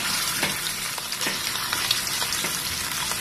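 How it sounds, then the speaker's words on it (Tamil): Vanjaram fish slices fry in oil on a hot dosa tawa, a dense, constant sizzling crackle with occasional light taps and scrapes, close and fairly loud, with no voices. "தோசை தக்கல்ல நல்லா சூடேற்றிட்டு அதில் தேவையான அளவு எண்ணெய் விட்டு நம்ம இதை வரிசையாக போட்டு நல்லா ஃப்ரை பண்ணி எடுத்துக்கலாம்"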